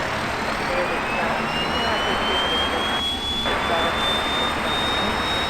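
A jet aircraft's engine in Microsoft Flight Simulator X roars loudly and steadily, with a thin high whine slowly rising in pitch as it spools up, a continuous close drone with no talk over it.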